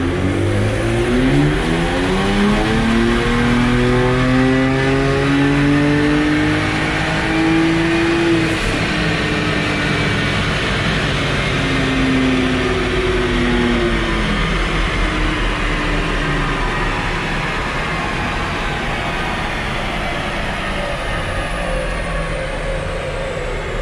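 A BMW E92 335is with the E50 tune revs hard through the gears on a dyno, its pitch climbing in repeated rising sweeps, loud and close for the whole stretch with no talking.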